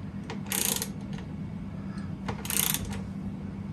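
Wrench tightening a zerk grease fitting on a Jeep JL during a sports cage install: two short bursts of clicking about two seconds apart, close and moderate, over a low steady hum.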